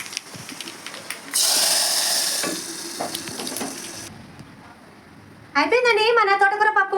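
Hot tempering of oil, curry leaves, dried red chili and spices poured into dal, a sudden loud hiss that fades to a soft simmer, with a voice speaking near the end.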